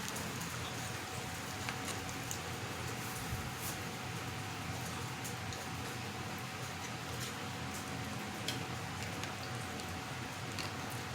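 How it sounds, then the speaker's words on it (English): Bacon sizzles steadily, a dense crackling hiss with scattered pops and spits, fairly quiet and continuous, no talking. "I don't know if you guys can hear that bacon sizzling away over here"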